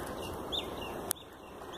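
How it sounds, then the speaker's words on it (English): A chicken clucks softly in the background in a primary school garden in Australia, a short call over quiet ambient noise, with a sharp click partway through. "And the chickens, we've got two chickens at the moment."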